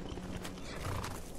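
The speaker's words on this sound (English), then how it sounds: "Horses." Horses in the video game Skyrim neigh over a dense clatter of hooves. The sound is close and steady for a brief moment.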